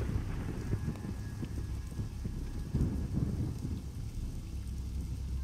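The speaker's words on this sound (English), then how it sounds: "The local storms are more and more frequent." Rain falls in a storm in the video game Alternativa, a steady hiss with low rumbles of thunder and some clattering hits, moderately loud with no talking.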